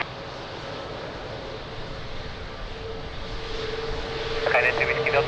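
An Air Transat airliner, flight 481, begins its takeoff roll on runway 02 at Lisbon Airport in gusty wind, a steady engine roar building slowly louder, with a radio voice talking over it.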